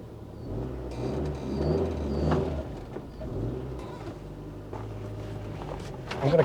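Rover 216i car driving on the road, a low engine drone rising and falling with gear changes and wind and road noise around it, heard from inside the cabin with no talking.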